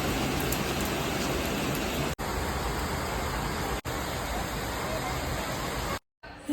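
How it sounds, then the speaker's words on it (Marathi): Sudden heavy rain pours down in a dense, even hiss close by, dropping out for an instant twice and cutting off just before the end. "ऑफिसवरून घरी आलो आणि अचानक पावसाने हजेरी लावली."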